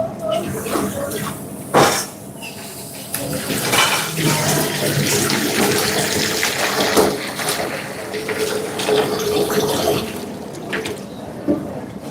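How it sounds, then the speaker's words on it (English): Water runs steadily into a container for potatoes in a busy working kitchen, a continuous splashing pour with clattering handling noises and people talking nearby. "Grab our container to put our potatoes in with some water."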